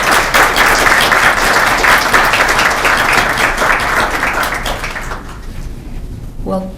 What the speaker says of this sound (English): Please join me in welcoming Professor Bak Sangmee with a big round of applause.